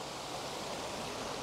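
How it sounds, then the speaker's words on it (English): Waterfall cascading as a dense, steady broadband rush of water with no breaks or distinct events, loud and enveloping from nearby. "I've made it into the middle of the waterfall now."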